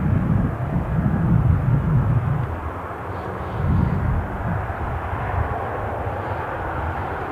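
Jet2 airliner at Newcastle airport, a steady low engine rumble swelling and easing at moderate distance, with no voices.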